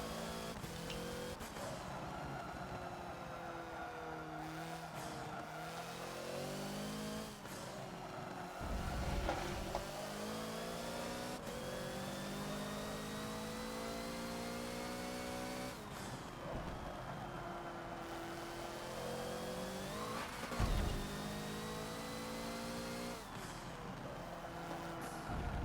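A Hoonigan Ford Focus race car in the Forza video game pulls out of the pits at Lime Rock, its engine revving loud and close with rising pitch sweeps and brief drops at each gear change.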